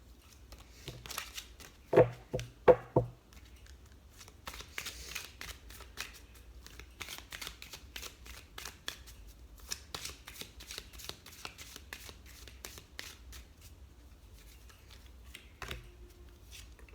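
Tarot cards are shuffled for a card reading in a steady run of soft, rapid riffling flicks and taps, with a few sharper snaps near the start, close and fairly quiet.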